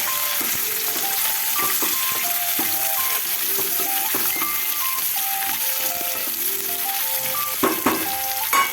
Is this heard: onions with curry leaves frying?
yes